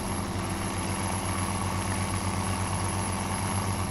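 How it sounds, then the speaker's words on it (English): A tractor engine in Farming Simulator 17 runs with its dynamic exhaust effect, a loud, continuous, even rumbling drone that holds steady throughout. "how much I love this dynamic exhaust"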